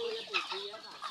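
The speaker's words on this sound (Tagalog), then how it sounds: "Grabe manok damo-damo." Chickens from a flock of around 300 cluck close by in quick, overlapping calls, with a louder squawk near the start.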